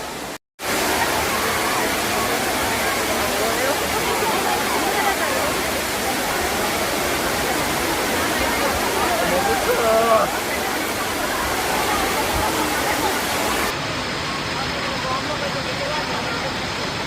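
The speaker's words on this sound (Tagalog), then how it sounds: "Ayan na ang falls, oh." Tinago Falls in Iligan roars as a loud, continuous wash of falling water close by, with the steady rush holding throughout and a slight drop in level near the end.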